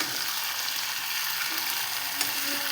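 Sliced okra and potatoes frying in a pan give a soft, even, continuous sizzle, fairly quiet and close, with one faint clink of stirring near the end and no voices.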